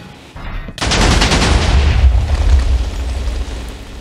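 A large explosion erupts in Minecraft with HBM's Nuclear Tech mod, a sudden loud blast after a brief quiet lead-in, then a sustained rumbling roar that slowly fades.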